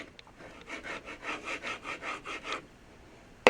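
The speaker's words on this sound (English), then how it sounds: "I'm able to get in here with this chisel that fits right in this groove just right" A chisel scraping old glue from the inlay groove of a wooden hoop on a 1963 Ludwig Blue Oyster Pearl bass drum, about a dozen rhythmic rasping back-and-forth strokes, close and fairly quiet, ending abruptly.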